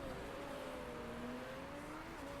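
A simulated race car engine in the Motorsport Manager game drones faintly and steadily, its pitch sliding slightly as the car passes, quiet and distant.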